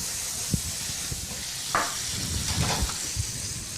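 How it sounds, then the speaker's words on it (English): Garlic and venison sauté in a pan for Thai Pad Prik King, giving a steady, fairly quiet sizzle with a few sharper pops and spatters scattered through it. "garlic, and all that good stuff, all sauteing up"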